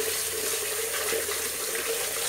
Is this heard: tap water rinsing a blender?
yes